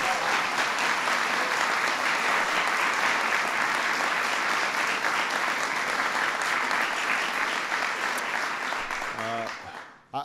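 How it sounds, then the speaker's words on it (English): Sustained, dense applause from a White House audience welcoming the Major League Soccer champions, steady for about nine seconds before it tapers off and a voice briefly cuts in at the end. "You can give them a round of applause for that."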